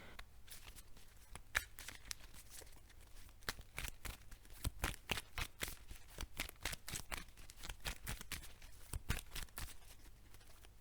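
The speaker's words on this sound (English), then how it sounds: "The corners do not catch up as I expected them to catch, and it's quite easy to shuffle." Cards in thin, soft Digimon Bandai sleeves being shuffled, giving a quiet, steady run of rapid crisp flicks and papery riffles that come in dense bursts throughout, with no voices.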